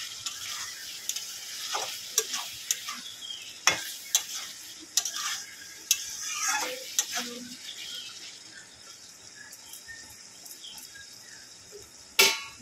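Pointed gourd (potol) stirred and sautéed with spices in a pan: a soft background sizzle under irregular scraping and clinking of a spatula against the pan, with sharp taps scattered through and a louder clank at the end.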